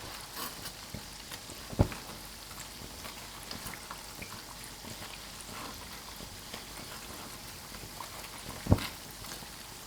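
Burger buns deep-fry in oil over medium heat, giving a faint, steady sizzle with a couple of sharp pops standing out alone.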